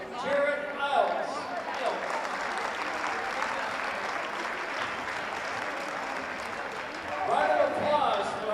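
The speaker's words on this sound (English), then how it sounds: "Round of applause from teachers and student athletes." Sustained applause and cheering fill a high school gym during a basketball game on teacher appreciation night, steady and loud for several seconds, with sneaker squeaks and a voice briefly audible at the edges.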